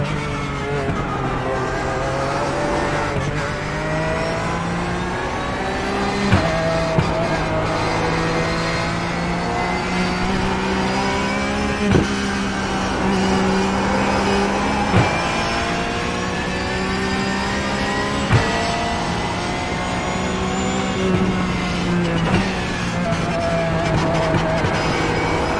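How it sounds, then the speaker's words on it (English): Porsche 911 Cup car engine in a racing video game, a steady sustained drone with shifting revs and gear changes, loud and continuous throughout with no talking. "Alright, that's the Porsche Cup car."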